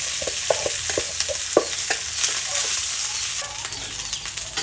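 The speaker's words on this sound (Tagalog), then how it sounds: "Ilagay na natin ang rice sa ating fried rice." Rice stir-fried with browned garlic in a pan for Filipino garlic fried rice, a steady sizzle with repeated scraping and tapping of a spatula, close and without talk.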